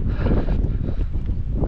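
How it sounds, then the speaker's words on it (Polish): Wind blows hard across a modular house building site during roof work, a steady close rumble of microphone buffeting with no clear breaks. "Ale wieje."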